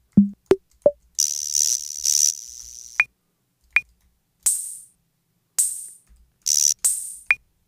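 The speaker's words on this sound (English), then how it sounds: "The first drum machine I want to talk about is the Roland CompuRhythm" Roland CR-78 CompuRhythm vintage analog drum machine hits played one at a time: a low kick, tonal blips, and several hissing hi-hat and cymbal bursts with gaps between.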